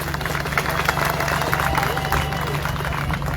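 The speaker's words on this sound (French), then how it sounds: "Veuillez applaudir M. Faye." Audience applause for the Senegalese ambassador during a UNESCO delegation visit in Iconi, Comoros, a short burst of dense clapping from a gathered crowd with a low steady hum and some murmuring underneath.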